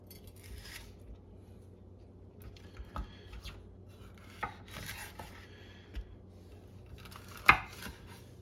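A knife chopping bell pepper pieces on a cutting board for chakchouka: scattered, soft taps and cuts at an irregular pace, with one sharper knock near the end, fairly quiet and close, no talk.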